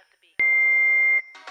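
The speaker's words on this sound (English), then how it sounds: "please leave a message at the beep." An answering machine beep: a single loud, sustained electronic tone held for just under a second, cutting off sharply before a short burst of other sound.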